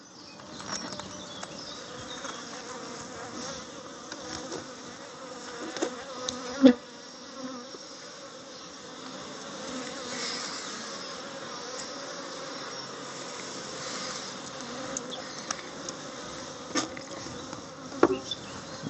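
Honeybee colony buzzing steadily in a Kenyan top-bar hive, a continuous close drone with a few sharper knocks and bumps, no talking.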